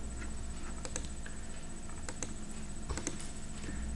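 Computer keyboard typing with commands entered at an MS-DOS style text prompt, scattered light key clicks in irregular bursts, close but fairly quiet over a steady electronic hum.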